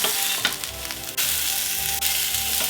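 Merguez sausages sear in a dry, very hot pan with loud, dense, crackling sizzle close by, interrupted by a couple of sharp clicks as the sausages are turned or nudged.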